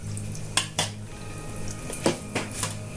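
Tomato and mozzarella salad being tossed in a bowl, with a few sharp clinks and scrapes of a utensil against the dish over a low, steady background hum.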